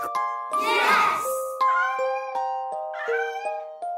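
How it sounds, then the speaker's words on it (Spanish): Cartoon cats meowing in a children's toy story, several short tonal mews in succession, close and clear, over chiming jingles and music. "¡Pero aquí no hay perros! ¡Son gatos!"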